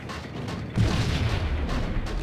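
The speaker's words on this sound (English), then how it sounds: "I'm just gonna throw a grenade and run away." A grenade blast in Max Payne: after a brief quiet lead-in, a single deep boom bursts out and rumbles on for over a second at moderate loudness.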